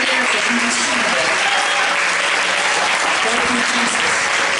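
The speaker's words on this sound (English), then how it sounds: "Come on, clap your hands if you receive that." A church congregation claps hands together in steady, dense applause lasting throughout, with voices of the crowd mixed in beneath the clapping.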